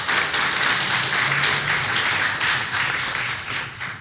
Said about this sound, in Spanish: Un aplauso para el compañero Ricardo Patiño.